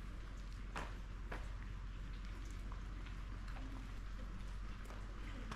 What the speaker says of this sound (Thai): ฝนก็ยังพรมๆเท่าๆเดิมไม่ได้มากได้น้อยกว่ากันเท่าไหร